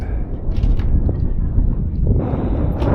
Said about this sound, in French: Ça se dégage, mais il y a du vent.